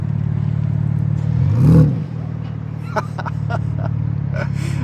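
A 2026 BMW M4 Convertible xDrive Competition with quad exhaust pipes idles steadily, then gives one short, fairly loud rev that rises and falls back to idle. A few clicks follow, and voices are heard under the engine.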